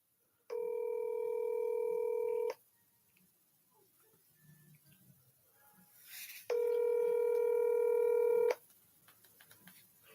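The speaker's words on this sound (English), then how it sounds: "It's kind of a long ring, a little bit longer than usual." A telephone call rings while waiting to reach voicemail: two long, steady ring tones about two seconds each, separated by a few seconds of quiet with faint background rustle.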